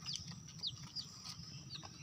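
A mother hen tending her chicks gives soft, low clucks close by, mixed with several short, high chick peeps, all faint and quiet with no voices.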